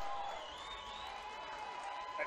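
Broad, steady crowd roar at a Swan City Titans versus Vipers American football game in West Bowl XXIII, sustained at moderate distance with a faint rise near the end and no clear individual voices.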